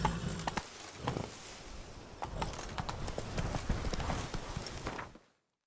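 Horse hooves clip-clop at a steady trotting rhythm across a game world in The Witcher 3: Blood and Wine, close and continuous for about five seconds before cutting off.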